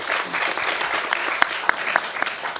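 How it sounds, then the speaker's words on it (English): A meeting audience gives a big round of applause, a dense, steady wash of many hands with a few sharp, close claps standing out. "Give him a big round of applause."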